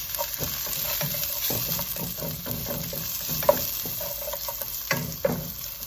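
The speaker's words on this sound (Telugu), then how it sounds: "వేగనియాలి మంచిగా ఉల్లిగడ్డ" Onions with turmeric and curry leaves fry in hot oil for an ivy gourd dish, a steady close sizzle broken by scraping stirs and soft spoon knocks against the pan, with no talking.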